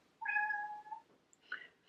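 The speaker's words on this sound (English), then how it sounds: "That's my cat again." A house cat gives a single clear, drawn-out meow close by indoors, then a shorter second call after a pause, with no talking over it.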